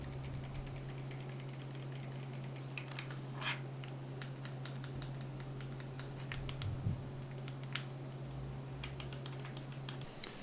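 The triggers and bumpers of a Logitech G Cloud handheld are pressed over and over, giving soft, quiet clicks scattered across a faint steady hum at close range.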